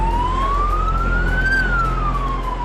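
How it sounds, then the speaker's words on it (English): An emergency vehicle siren, added as a sound effect, wails in one slow sweep that rises and then falls again, loud and steady over a low rumble. "they added the sound effects of sirens to make it more scary"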